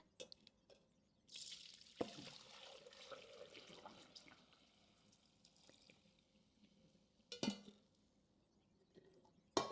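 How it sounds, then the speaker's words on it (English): Chicken broth pours and splashes into a container, with a few clinks of utensils against it and a steady watery rush, close by. "So I think I'm going to pour some in here."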